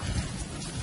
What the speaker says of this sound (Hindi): ये देखो बारिश भी हो रही है